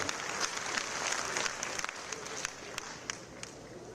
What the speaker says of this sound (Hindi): एक बार मंच पर आसीन सभी अतिथियों के लिए जोरदार तालियां बजाकर आपका स्वागत, अभिनंदन करें